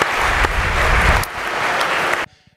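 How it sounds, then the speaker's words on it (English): Applause from the audience of a music innovation panel, loud and full for about two seconds before cutting off abruptly, leaving a brief faint tail. "Big round of applause."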